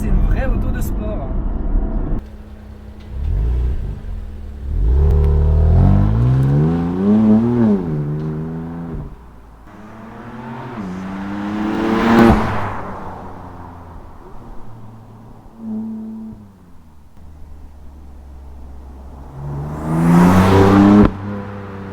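A BMW M4 in sport mode accelerates hard, its engine rising in pitch, dropping at each gear change, then climbing again, heard from inside the car with a voice talking at times.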